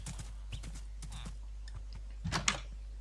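Hoofbeats of a horse in Minecraft clip-clop in short irregular bursts, fairly close, with a louder cluster of steps near the end and no talking over them.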